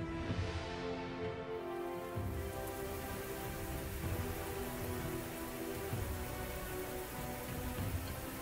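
A rain spell cast in the turn-based fantasy strategy game Fort Triumph brings steady, dense rainfall that hisses continuously throughout, fairly loud and close, with a faint low rumble underneath.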